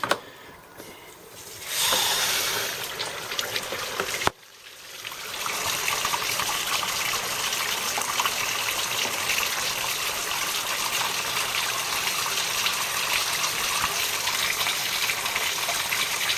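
Water from a hose blasts through a car's radiator expansion tank during a cooling-system flush, a loud broadband rush that surges briefly, dips for a moment, then gushes steadily and close for the rest of the time.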